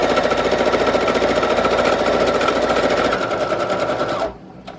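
Sewing machine stitching through paper for handmade journals, a fast continuous mechanical rattle of needle strokes running loud and close before abruptly stopping near the end.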